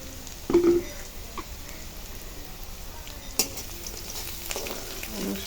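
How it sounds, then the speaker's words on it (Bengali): Chopped garlic fries in hot oil with a soft, continuous crackling hiss, broken by a few louder knocks and scrapes of a spoon stirring in the pan nearby. "এরপরে রসুন কুচি দিয়ে দিলাম"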